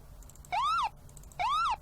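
Two identical short whooping tones from the default police siren in the GTA V LSPDFR mod, each a quick rise and fall, sounding alone and fairly faint with a pause between them.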